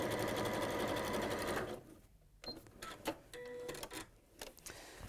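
A sewing machine runs steadily and loudly for nearly two seconds, sewing a zigzag stitch, then stops, leaving scattered clicks and small handling noises.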